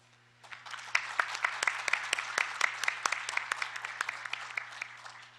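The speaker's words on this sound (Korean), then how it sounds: "외국 패널들께 뜨거운 박수를 부탁드립니다" A small audience at a patent court conference claps, sharp individual hand claps building quickly into sustained applause that gradually thins toward the end; a low hum underneath.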